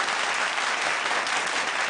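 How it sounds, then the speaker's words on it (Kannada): Dense, even applause from a studio audience on a Kannada TV game show after a contestant bursts six balloons, a short continuous roar of clapping. "ಚಪ್ಪಾಳೆ."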